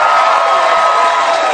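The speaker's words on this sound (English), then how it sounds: "How about a round of applause?" A television game show studio audience roars with loud, continuous cheering and applause, close and filling the room for the whole moment.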